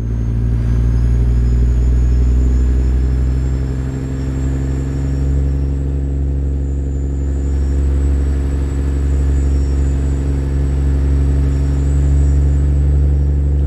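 A Detroit Diesel 60 Series truck engine in a video game rumbles steadily with a deep exhaust drone, turbo sounds and faint whining tones, loud and continuous, holding a near-constant idle throughout.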